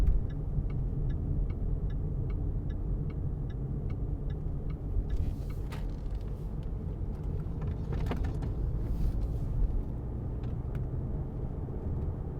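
Inside a 2017 Jaguar XF 2.0d diesel saloon rounding a roundabout, a steady low engine and road rumble runs throughout, with a regular ticking indicator for the first several seconds and a few faint clicks later.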